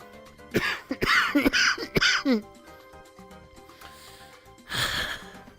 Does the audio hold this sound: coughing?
yes